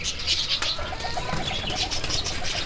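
Pigeons coo in soft repeated throaty notes, with a few chirps and a brief flutter of wings nearby.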